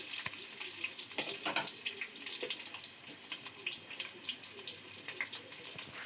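Onions are dropped into hot oil with fennel and fenugreek for a Tamil sundakkai kuzhambu. A close, crackling sizzle with sharp pops runs throughout, and no voices are heard.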